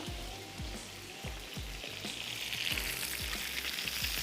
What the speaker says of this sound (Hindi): जो और हमारे पास हैं इनको भी हमने फ्राई करना है